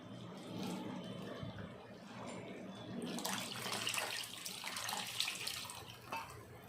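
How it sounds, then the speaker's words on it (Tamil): Tamarind water is poured into a simmering eggplant curry, making a soft, fairly faint liquid splashing and trickling that grows a little louder partway through. "இப்போ வந்து நம்ம புளி கரைசல் ஊற்றிக்கலாம்"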